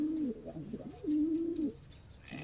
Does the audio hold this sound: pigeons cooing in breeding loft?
yes